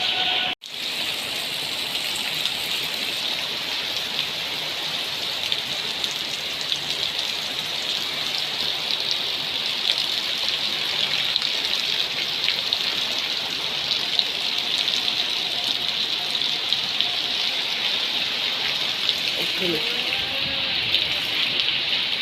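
Heavy rain with wind during Cyclone Remal in Balasore makes a steady, dense hiss of downpour that runs unbroken for over twenty seconds, loud and close, with no voices.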